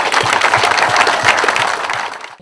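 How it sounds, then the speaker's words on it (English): An audience at a football locker-room project presentation gives sponsors a dense, loud round of applause that carries steadily, then fades out at the end. "a huge round of applause for Westland AC Heating and Plumbing and the Mitchell family for really their support"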